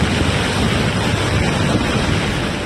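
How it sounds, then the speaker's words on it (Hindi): A flash flood in Mandi, Himachal Pradesh, carries mountain debris past houses during monsoon rain: a steady, dense roar of rushing water that fills the short stretch without letup and has no voices. "पानी के तेज बहाव के साथ पहाड़ों का मलबा भी लोगों के घरों के आगे से गुजरने लगा।"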